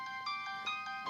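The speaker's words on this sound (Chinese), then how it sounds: "我接个电话。" A mobile phone ringtone plays in a continuous electronic melody of bright repeating tones, moderately quiet, with no speech over it.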